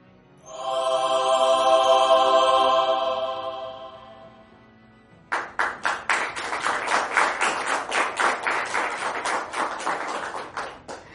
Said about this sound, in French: Les applaudissements sont des applaudissements nourris